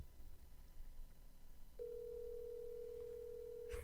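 A telephone line rings out during a quiz-show lifeline call. After a short stretch of faint room noise, a single steady electronic tone starts and holds unbroken for about two seconds, quiet and clear, then stops with a small knock.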